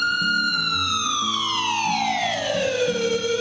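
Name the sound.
ambulance siren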